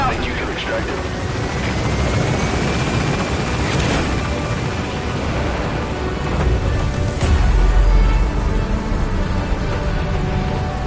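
A helicopter in Metal Gear Solid V: The Phantom Pain carries out an extraction, its rotor thrumming steadily under game dialogue and effects, with a couple of sharp impacts along the way.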